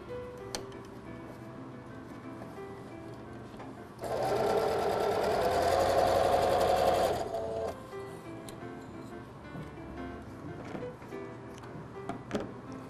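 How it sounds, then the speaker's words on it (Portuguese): A sewing machine runs a steady, rapid stitching burst for about three seconds while sewing the lining seam of a fabric zip pouch, loud and close, with quieter handling sounds before and after. "Novamente uma costura."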